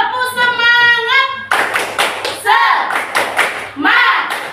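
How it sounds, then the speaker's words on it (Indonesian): A fifth-grade class performs a rhythmic spirit clap, sharp bursts of many hands striking together in patterned beats, alternating with a teacher's voice and the children's loud chanted replies. "Tepuk semangat."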